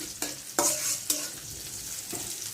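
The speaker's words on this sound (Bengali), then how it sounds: "এখানে একটু হালকা ভাজা ভাজা করে নেব" Something fries lightly in a pan with a steady close sizzle, and a few sharp bursts of stirring scrape and clatter against the metal.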